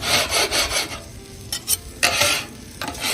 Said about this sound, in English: let me scrape this up here